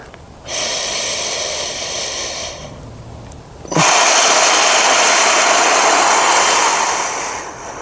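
Forceful breathing exercise paired with arm movements, a long steady inhale followed by a louder, sustained rushing exhale, close to the microphone with no talking.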